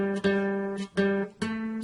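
Guitar open third string plucked three times with an even pulse, each note ringing clearly and sustaining until the next, with no voice.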